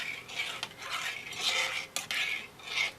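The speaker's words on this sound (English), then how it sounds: "I just want to stir this until all that gelatin is dissolved and all the Splenda is dissolved in." A spoon scrapes and clinks steadily around a container while gelatin and Splenda are stirred to dissolve them, a soft continuous rubbing broken by a couple of sharper taps.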